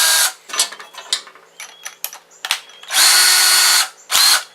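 Power drill boring a starter hole in PVC for a gravity-fed chicken feeder. Loud, close whining bursts start and stop, with choppy, catching pulses before two sustained runs near the end.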